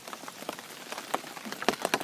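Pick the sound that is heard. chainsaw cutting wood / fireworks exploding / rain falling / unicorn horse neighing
rain falling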